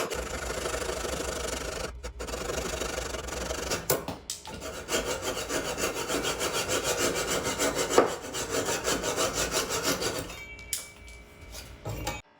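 A saw blade held flat against a wooden surface cuts steadily, rasping in a continuous back-and-forth rhythm up close for most of the stretch, with brief pauses between strokes and no talking.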